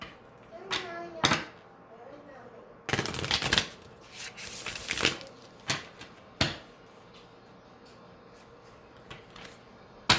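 Tarot cards are shuffled and pulled in short bursts of riffling and flicking, including a longer sustained shuffle, with a soft voice in the background.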